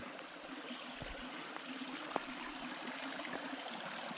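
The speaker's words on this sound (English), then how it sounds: "You can hear this babbling brook." A small creek babbles over rocks, giving a faint, soft trickling and gurgling with a few light splashes, quiet and steady.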